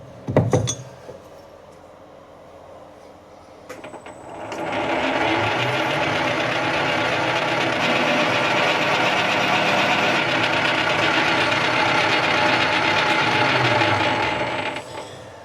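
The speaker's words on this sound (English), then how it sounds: "Let's put a little countersink on it." A metal part is countersunk on a lathe, the cutter held against the spinning workpiece; after a brief start-up, a steady loud whirring, grinding machining noise runs for about ten seconds before dropping away.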